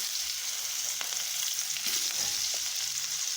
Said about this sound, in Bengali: পেঁয়াজ দেওয়া হয়ে গেছে